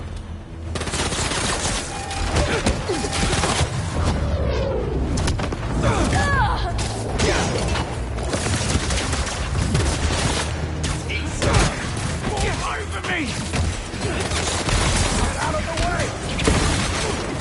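Rapid bursts of gunfire in the Spider-Man 2 video game crackle through a dense, loud mix of battle noise and low rumble, with voices talking over the shots.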